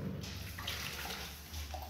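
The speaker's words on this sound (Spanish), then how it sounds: "Ahora le voy a agregar 5 vasos de agua" Water poured from a small glass into a container, a steady close splashing stream that shifts slightly in tone, with no speech.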